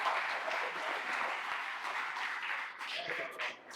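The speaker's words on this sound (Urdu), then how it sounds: "آپ لوگ ان کے لیے تالیاں بجائیں" An audience claps together in a hall during an education event, steady dense applause running throughout, with a voice faintly under it.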